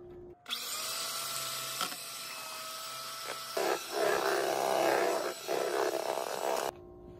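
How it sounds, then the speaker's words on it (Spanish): An electric mixer whirs loudly while beating egg whites for potato torreznos coated in egg, its motor droning steadily, then rising in pitch and strain with a few brief dips before it cuts off. "Vamos a empezar a batir."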